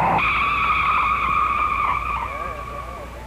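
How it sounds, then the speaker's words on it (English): A 1956 Indy 500 race car's tires squeal loudly in a sustained, high shrieking skid on the track, holding steady before fading slightly toward the end. "He takes the flag and the wheels begin to spin."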